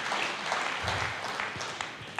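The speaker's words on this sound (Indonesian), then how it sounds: "Berikan tepuk tangan yang meriah buat Tuhan." A church congregation claps together during a sermon, a dense, steady wash of applause that carries on for a couple of seconds without any voices over it.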